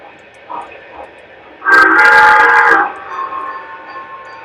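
A model train horn blasts loudly for about a second, steady and harmonic, with quieter background sounds before and after.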